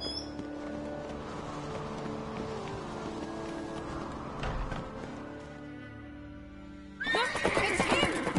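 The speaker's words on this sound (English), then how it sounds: "Grab a horse, we'll chase him down." Horse neighing in the video game The Witcher 3, a sustained whinny over a layered game soundscape, followed by a burst of hooves and commotion near the end.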